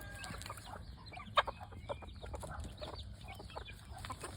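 Free-range gamefowl hens, mostly mongrels, clucking in short scattered calls outdoors, with one sharper cluck standing out over a low steady background.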